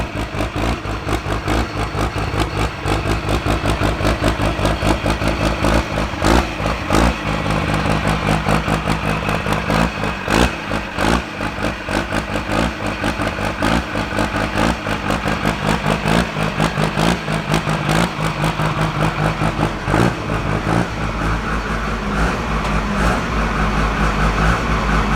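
A 2000HP Cummins diesel drag truck engine running rough, a loud, dense, continuous roar with clattering and uneven pulsing that persists throughout, close and without talk.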